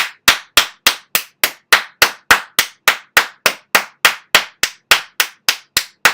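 A single person claps hands in a steady, even rhythm, about twenty crisp, loud claps close to the microphone with silence between each, no talking.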